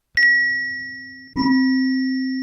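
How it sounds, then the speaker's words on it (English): A synthesized bell tone from a software instrument in a music production program, struck twice: a bright sustained ring, then a second strike that rings on alone and slowly decays. "Let's just use this bell."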